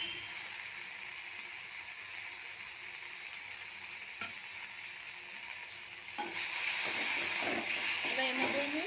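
A spice paste of cumin, garlic and onion sizzles steadily in a pan of frying beetroot, a close, even hiss that swells louder with crackling and stirring near the end.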